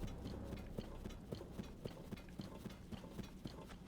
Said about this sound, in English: those are horse riders. Or skeletal horse riders.